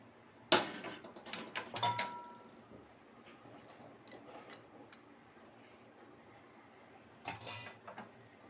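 Fried cashews, almonds and raisins go into sago payasam with a few sharp metallic clinks and scrapes of a spoon against the pot, a quiet pause, then another short clatter.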